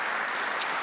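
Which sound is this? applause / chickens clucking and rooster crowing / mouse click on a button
applause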